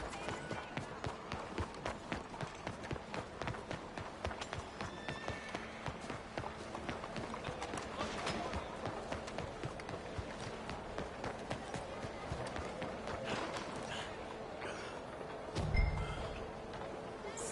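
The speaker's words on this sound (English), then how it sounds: "¡Arre, caballo!" Horse galloping in Red Dead Redemption 2, a steady rapid rhythm of hoofbeats running throughout at moderate volume, with a brief thump near the end.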